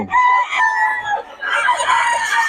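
Young stag rooster crowing loudly and close by, one long, strained cock-a-doodle call rising and breaking into a second ragged burst, heard alone.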